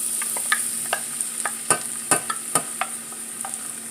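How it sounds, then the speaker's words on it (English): Salsa is stirred into rice and garlic sizzling in a hot pan, a steady frying hiss broken by repeated scraping clicks of a spoon against the pan, close and with no talk. "we're going to give this a good stir, like so"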